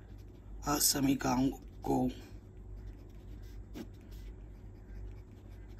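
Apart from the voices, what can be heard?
writing equations by hand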